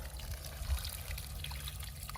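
Water trickles softly through a pond pump being flushed after the pond was drained, a faint, steady flow over low background rumble.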